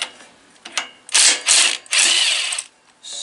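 A ratchet with a 3/4 inch spark plug socket works a spark plug on a 14.5 Briggs small engine. It gives several close, loud bursts of rapid clicking with short pauses between strokes.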